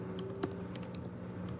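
Quick, light clicks of typing on a computer keyboard, a short burst of keystrokes in a quiet room.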